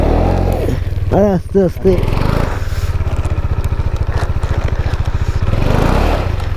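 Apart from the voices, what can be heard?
KTM Duke 390 motorcycle rear wheel skidding, stuck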